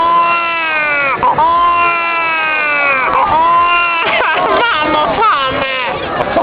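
A comic sound-effects performer on stage at a song contest in Pesaro vocally imitates a crying baby, loud wavering wails and whimpers in continuous bursts.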